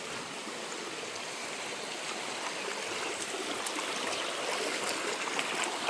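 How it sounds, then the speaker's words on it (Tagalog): A creek flows steadily nearby, a continuous broadband rush and babble of moving water with no talk over it. "Ito ngayon ang sitwasyon ng aming sapa."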